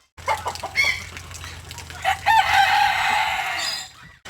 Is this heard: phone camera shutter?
no